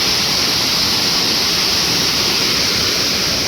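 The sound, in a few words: water flowing through leaking dam gates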